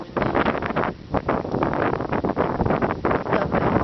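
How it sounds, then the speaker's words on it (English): Strong wind on Mount Jefferson roars and buffets the microphone in gusty, uneven bursts, loud and close throughout with no voices. "Very windy."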